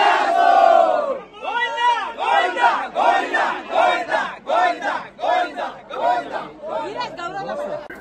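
A large, dense crowd at a Dahi Handi festival in Kurdus, gathered around a pot hung over a well, chants and shouts in loud rhythmic bursts of roughly one per second, each rising and falling in a steady call-and-response pattern.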